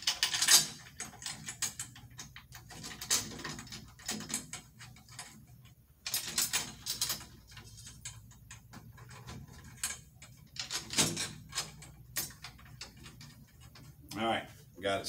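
Metal drum tension rods are threaded by hand into the lugs of a tom while a new head is fitted, giving repeated small ticking and rattling clicks in irregular bursts, close and fairly clear.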